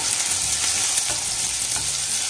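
Chopped onion with ginger garlic paste frying hard in oil, giving a loud, dense, continuous sizzle with faint stirring scrapes and no voices.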